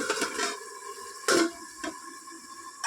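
A lid is set on a pot of taro stem curry cooked with tamarind, giving one sharp metallic clink and a softer knock after it, over faint sizzling from the stove.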